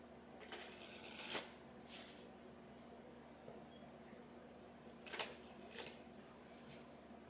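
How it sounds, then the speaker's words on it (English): Quiet riffling bursts of glossy tarot cards being ripple shuffled, two or three quick ripples separated by pauses, close by with a faint steady hum behind. "they shuffle pretty nicely"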